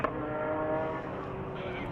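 BMW M Performance Parts race cars stream past on the Phakisa circuit in the closing stages of the race, their engines forming a loud, sustained roar that holds steady throughout.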